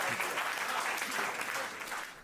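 A school audience at a Hindi kavi sammelan (poetry recital) gives dense, steady applause welcoming the poet Piyush Malviya, close and continuous, easing off slightly at the end.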